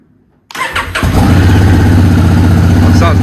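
A Honda Africa Twin motorcycle with a full aftermarket exhaust system cranks and fires up, then settles into a loud, throaty, steady idle with a deep, trumpet-like rumbling exhaust note.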